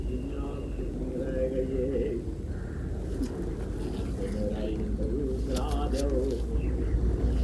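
A pigeon coos softly in repeated low phrases over a steady background hum, with a voice talking now and then through the calls.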